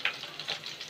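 Ginger and bay leaves frying in hot oil, a short close crackling sizzle with a few sharp spits and pops over a steady hiss, no speech.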